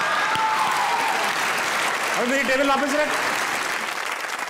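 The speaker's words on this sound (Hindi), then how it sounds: "वाह, तालियां।" Studio audience applause on a Pakistani comedy talk show, sustained clapping heard under someone speaking, with a brief musical tone rising midway.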